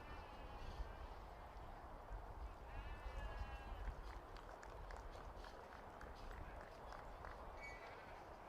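Blue Texel ewes bleat and scramble about while being caught, with several wavering bleats over continuous shuffling hoof noise and a busy, crowded background.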